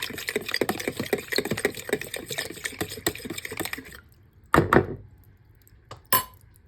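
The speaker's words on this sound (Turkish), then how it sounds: "Güzelce karıştırıyorum yine." A spoon stirs a dough mixture of egg, salt and oil in a bowl, a quick close run of wet scraping and clicking strokes that stops partway, followed by a few isolated utensil knocks against the bowl.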